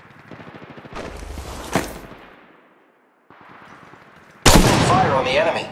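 Gunfire in the mobile shooter Apex Legends Mobile, with a short burst of shots, a brief lull, then a loud sharp volley with crackling echoes, heard among game sounds.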